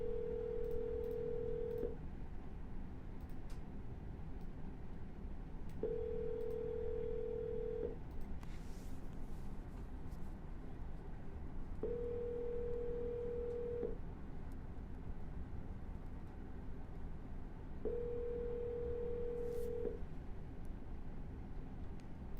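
Phone line ringback during an outgoing call: four evenly spaced two-second tones repeating every six seconds over a constant hiss, with no voices.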